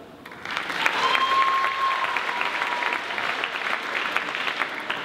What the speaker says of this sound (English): Let's have a massive round of applause and cheer for the dancers